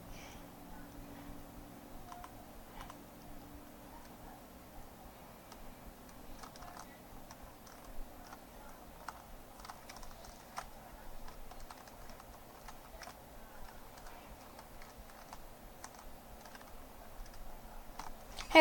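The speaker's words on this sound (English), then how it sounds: "Now I'm just gonna hold down spacebar for a little while," Soft, faint computer keyboard clicks and ticks repeat sparsely through a quiet room while a spacebar is held down during a game of Don't Starve.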